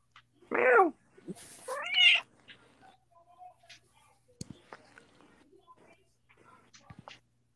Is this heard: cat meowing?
yes